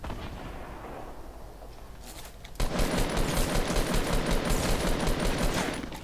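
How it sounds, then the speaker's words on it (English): Video game gunfire and grenades, with a quieter stretch of shots giving way to dense, loud, rapid automatic fire and blasts that continue without pause. "it's a whole nother team that is firing at us"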